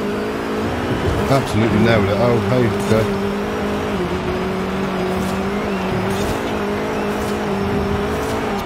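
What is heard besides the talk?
Renault Turbo 1980 rally car engine and gear changes, Forza Horizon 5 video game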